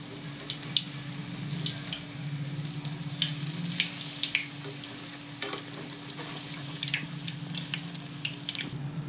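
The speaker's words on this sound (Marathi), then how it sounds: "हे बघा, तेलात टाकून चांगलं तळून घ्यायचं त्याला दोन्ही साईडने" Batter-dipped bun pav pakoda fries in hot oil as Indian street food, a steady close sizzle and crackle with scattered pops and a faint hum beneath.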